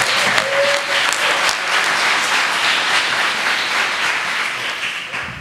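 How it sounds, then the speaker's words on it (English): Wedding guests applaud at a reception venue, a dense steady wash of clapping holding loud for about five seconds before easing slightly at the end, with a brief voice or whoop near the start. "Can we please have a round of applause for Mauro and the venue?"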